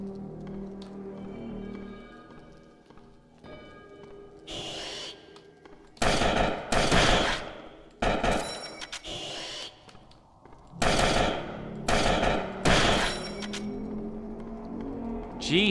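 Gunfire in the video game Spooky's Jumpscare Mansion comes as several loud, broad blasts in short bursts, separated by quieter stretches with a low hum and faint background sounds.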